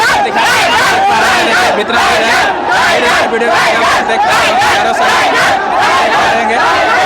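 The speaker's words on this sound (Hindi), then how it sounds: "भीड़ एकदम गूंज रहा है।" A large crowd at an election nomination rally in Jharkhand chants and cheers loudly in a dense, continuous roar of voices with rhythmic shouted chanting throughout.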